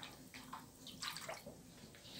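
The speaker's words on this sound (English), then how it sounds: "Agitate it a little bit, and get the fibers throughout the whole water." Soft sloshing and swishing of water being stirred with paper pulp fibers, with light splashes and gurgles at close range, fairly quiet and continuous.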